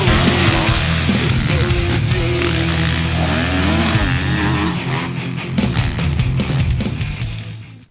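A 2010 Husqvarna motorcycle revs loudly and continuously close by, its engine note rising and falling through gear changes before tapering off at the end; no one talks.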